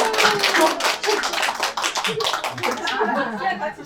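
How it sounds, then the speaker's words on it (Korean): Audience clapping at a children's book launch ceremony for a fantasy novel, dense and steady for about four seconds, mixed with voices and light chuckling throughout. "박수 한번 보내주셨습니다"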